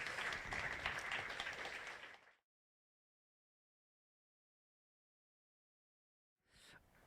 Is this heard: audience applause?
yes